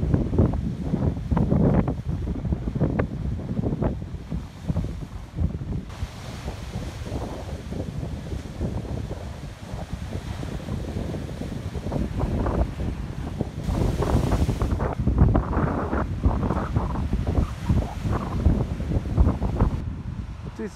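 Big ocean waves crash onto the shore of a rough sea under strong wind, making a steady, loud roar of surf with gusty wind buffeting the microphone throughout and no voices.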